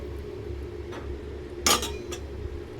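A spoon clinks and scrapes against a pot while stirring beans curry, a few short metallic knocks over a quiet background.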